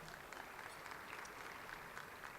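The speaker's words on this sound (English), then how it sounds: "Applause for that." Breakfast crowd at a community event claps in a steady, moderately faint round of applause, even and continuous with no talking over it.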